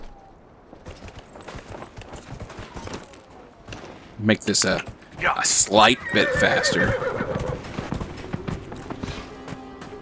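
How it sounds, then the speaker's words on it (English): A horse in the game Dragon Age Inquisition, whinnying loudly, then galloping hoofbeats that carry on under the game's ambient sound. Someone talks briefly at the start. "let's get a horse"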